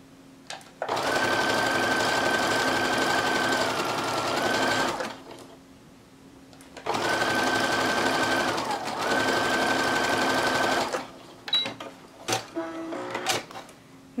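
A sewing machine stitches picot elastic onto lingerie in two long, loud whirring runs with a pause between, followed by a few short clicks and taps of handling.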